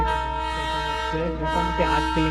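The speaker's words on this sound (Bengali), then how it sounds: "ট্রেন এখন ছাড়লো সোনারা স্টেশন থেকে" Darjeeling toy train pulls away from Sonada station, its horn sounding a sustained harmonic toot with pitch wavers, close and loud over the running rumble.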